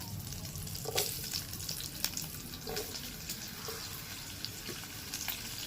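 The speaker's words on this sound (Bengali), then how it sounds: "আলু আর বেগুন একসাথে ভাজছি" Thinly sliced potato and eggplant frying together in a pan, a soft continuous sizzle with occasional stirring clinks, fairly quiet and without speech.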